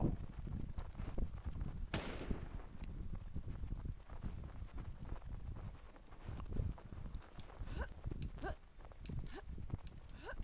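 Busy battle noise from the video game Infestation with repeated sharp bangs and explosions, one big burst near the start, over a constant high electronic whine.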